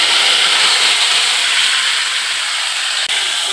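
Mixed leafy greens dropped into hot oil, a loud, close, steady hissing sizzle that fills the whole stretch, with one brief dip near the end and no voices.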